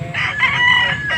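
A single rooster crows loudly and close by at a market in Angeles, Pampanga, one drawn-out cock-a-doodle-doo with faint clucking beneath.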